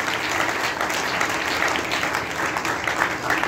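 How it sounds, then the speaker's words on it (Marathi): A church congregation claps loudly in thanks to Jesus, a dense, sustained wash of many hands clapping together at moderate loudness. "सर्वजण जोरात टाळ्या वाजवून प्रभू येशूला धन्यवाद देऊया."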